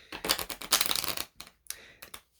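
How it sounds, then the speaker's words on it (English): A tarot deck is shuffled close up, with rapid riffling bursts of card flutter broken by short pauses and a few quicker flicks at the end. "I am going to shuffle this deck before I ask for any clarification"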